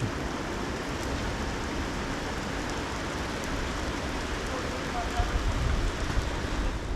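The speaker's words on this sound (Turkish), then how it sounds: "Gidemem bu yağmurda su gibi oluruz." Steady rain falls during a countryside bicycle tour, a dense even patter throughout with slightly louder drops toward the end.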